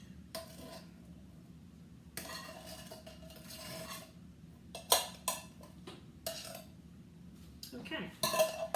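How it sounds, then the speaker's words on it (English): A spoon scrapes and taps against a casserole dish while spreading beans over a layered chicken enchilada bake, with soft intermittent scraping strokes and a few sharper clinks toward the end, fairly quiet and close. "I'm just evenly putting these beans all over the top of the casserole here"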